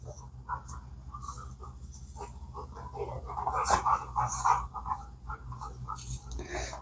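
Dogs whimpering and yipping in short, thin bursts near a car being detailed with Turtle Wax, moderately close, with a brief louder flurry midway and faint voice-like sounds mixed in.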